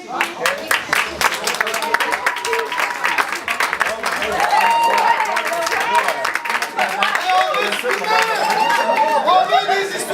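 Wedding reception guests in a Montreal hotel hall applaud a man called up to give a speech, steady clapping mixed with loud crowd chatter and cheering that swells midway and holds for about ten seconds.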